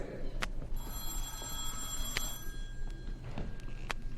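A telephone bell sound effect on a 1971 comedy record rings in several sharp bursts over a steady hissy background, with a few clicks scattered between the rings.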